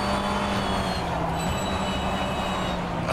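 BMW M V8 Hybrid LMDh prototype race car in the rFactor 2 racing game, a loud continuous engine roar with a steady pitch and a slight rise partway through, alone with no talk.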